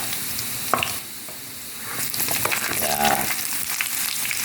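Garlic, onion and tomato sautéing in a pan for binagoongan, a soft sizzle broken by a sharp utensil clink, then louder, busier frying and stirring noise building up, no talking.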